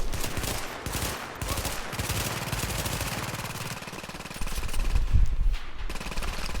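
An enemy turret in The Division fires sustained automatic bursts, a dense, loud, rapid rattle running almost without pause and swelling near the end.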